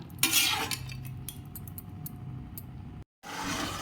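A spoon stirs spiced meat curry in a pot, close metallic scrapes and clinks over a low simmer, with a brief gap near the end and no talk.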